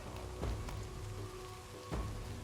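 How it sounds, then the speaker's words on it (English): Rain falls on a battlefield in the video game Total War: Pharaoh, a steady wash of drops with two soft thumps, heard on its own without talk. "Rain."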